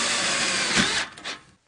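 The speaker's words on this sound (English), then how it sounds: "Set your spacing and install screws in each joint." Power drill driving a screw into a joint of a VersaTube steel building frame, a steady close whirring that rises briefly near the end and then stops.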